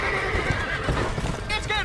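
A horse whinnies and neighs close by in Red Dead Redemption, its call rising over hoof clip-clops and overlapping voices in a busy, noisy scene.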